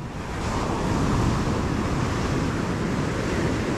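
Beach on a sunny day with 2 to 3 foot ocean waves and a north wind: a steady, loud wash of surf and wind buffeting the microphone, dense and unbroken for the whole stretch, no voices.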